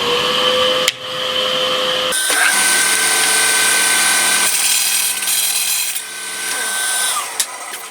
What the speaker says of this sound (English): Got a bandsaw, I might as well use it.